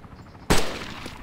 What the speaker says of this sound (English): Prepare to open fire.